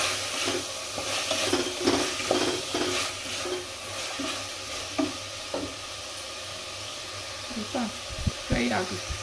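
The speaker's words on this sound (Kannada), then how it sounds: "ಈಗ ಬಟಾಣಿ ಫ್ರೈ ಆಗಿದೆ" Dried peas, soaked beforehand, sizzle in a hot pan while being stirred for a soybean pulao, with soft frying crackle and repeated scraping strokes of the spoon, close and moderate in level.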